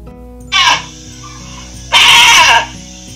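A voice imitates a goat bleating in a children's read-aloud, giving one short bleat and then a longer, louder wavering bleat over a faint steady background.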